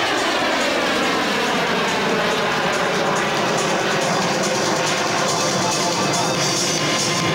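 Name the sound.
aerobatic airplane snap rolling and spinning at an airshow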